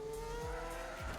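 Racing cars in the F1 Manager 22 video game, with a high steady engine whine and two short low skid or squeal sweeps, faint and without talk.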